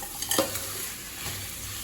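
Vegetables for a Tamil-style mixed vegetable rice being sautéed and stirred in a pan, with a soft continuous sizzle and a couple of brief scraping stirs near the start, fairly quiet and with no voices.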